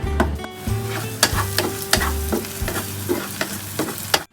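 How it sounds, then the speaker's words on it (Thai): Garlic frying in hot oil with steady crackle, punctuated by repeated scraping and stirring strokes of a utensil against the pan, close up. "โบจะมาเจียวกระเทียม"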